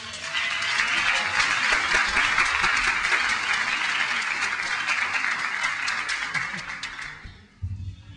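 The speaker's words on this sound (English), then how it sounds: "So, we give Brian a round of applause." A church congregation breaks into steady applause, broad dense clapping that holds strong for several seconds, then thins and fades out near the end with a brief low bump.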